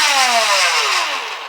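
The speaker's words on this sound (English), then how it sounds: "the revving of this blaster is pretty loud since it is a 3S" A 3S-powered flywheel foam blaster in the Nerf style revs up loudly, a continuous high motor whine that starts strong, then slowly drops in pitch and fades slightly over about a second and a half, heard alone.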